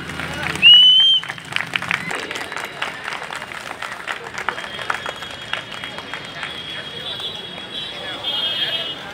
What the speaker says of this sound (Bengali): একটা জোরে হাততালি হবে